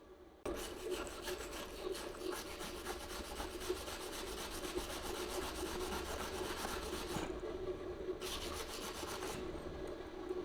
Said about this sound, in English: Should we try their handy little brush they gave us?